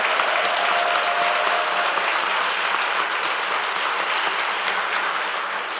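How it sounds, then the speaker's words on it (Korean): A church congregation claps together for the risen Lord during an Easter Sunday service in Daejeon, a dense, steady wall of applause that holds for about six seconds with no voices over it. "부활하신 주님께 모든 감사와 영광의 박수 올려드립니다"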